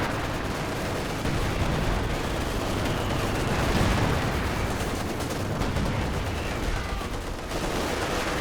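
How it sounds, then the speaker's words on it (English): Howitzer and other guns firing in a Company of Heroes 2 battle, a continuous dense wash of gunfire, booms and explosions at steady loud level throughout. "Howitzer firing on the Zis, trying to clear it out."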